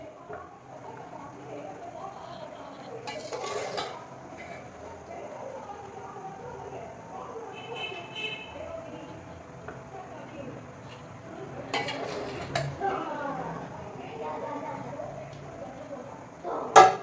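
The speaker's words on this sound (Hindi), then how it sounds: "अब मैं ये चावल डालूँगी।" Rice being added to a cooking pot with spices for Sindhi biryani, heard as soft rustling and scraping with a few clinks of utensils against metal, fairly close, steady and moderately quiet.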